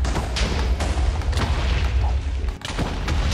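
Wither boss exploding in Minecraft: a dense, continuous roar of booming blasts with a brief dip near the end, loud throughout.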